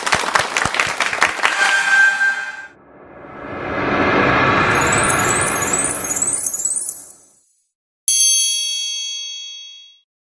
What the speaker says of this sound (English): Can we have a round of applause for Mr. Prahlad?